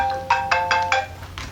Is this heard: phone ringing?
yes